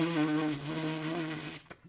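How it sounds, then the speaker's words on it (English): A trumpet player buzzes pressed lips without the instrument, a loud, steady nasal drone with a wavering pitch held for over a second before cutting off into a short breath. "you make the sound by your buzzing your lips"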